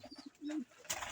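A pet pigeon coos softly nearby, a few short low pulses and then a longer drawn-out coo, before a brief noisy rustle.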